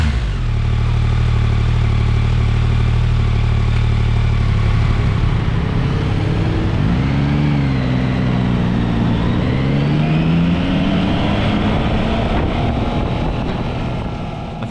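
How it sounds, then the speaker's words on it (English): Yamaha MT09 triple engine with acoustic amplifier intake grills, a loud close induction growl that idles low, then rises and falls through revs in a continuous throaty drone. "They've got those little acoustic amplifier grills, which makes the induction sound absolutely wonderful."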